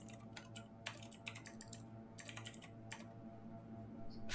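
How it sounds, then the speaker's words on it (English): Fast, uneven typing on a computer keyboard, a scatter of crisp key clicks in bursts over a steady low game background hum. "Fat finger typing."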